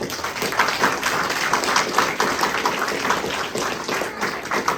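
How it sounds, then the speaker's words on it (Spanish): Congregation at a Sunday church service clapping steadily in rhythm, dense and continuous hand claps filling the room for several seconds with no talk over them. "Dale palmas para el Señor, amén."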